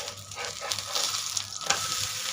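Poha thalipeeth sizzles and fries steadily on a hot pan as it is flipped, with brief scraping and stirring bursts over a constant crackling hiss.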